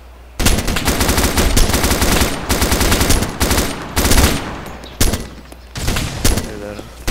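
Automatic machine gun fire from an ArmA 2 Operation Arrowhead firefight, loud sustained bursts with brief gaps between them and no talk over it.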